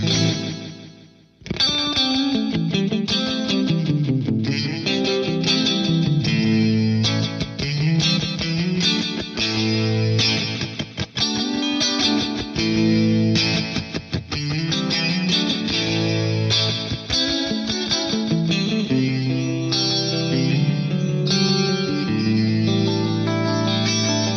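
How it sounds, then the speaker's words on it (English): Analog-style echo effect from a Sony rack delay unit, processing a continuous distorted, chorused guitar-like line with repeating echoes trailing each note, loud and sustained after a brief quiet start. "You also have some analog style echo effects in here, like so."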